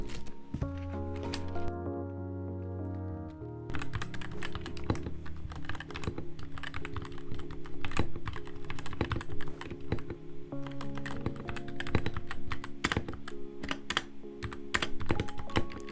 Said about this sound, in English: now you can hear the sound with the mods and the red switches